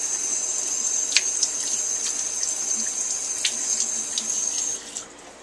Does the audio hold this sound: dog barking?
no